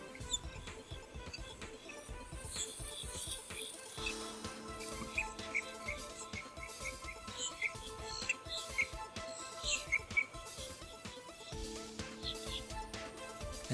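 A bird in South African bush calls in repeated high, chirping notes, fairly faint and scattered over a dense background of other chirps and insect-like buzzing.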